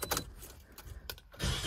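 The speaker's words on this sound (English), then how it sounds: "Okay, car starts, no issues." A 2016 Toyota Yaris with a freshly replaced battery starts up: a few short mechanical clicks and rattles, then the engine catches near the end with a loud, broad rumble close by.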